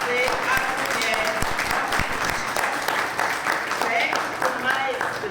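A crowd at a women leaders' debate forum applauds a woman, dense clapping from many hands holding steady for several seconds, close and even in level.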